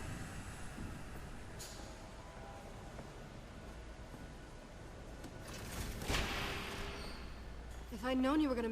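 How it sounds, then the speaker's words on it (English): A train approaching in the video game Batman: The Telltale Series, a low rumble building under soft game ambience and rising to a louder rush with metallic wheel squeal near the end. "There's a train coming."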